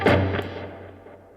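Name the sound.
dead strums on muted electric guitar strings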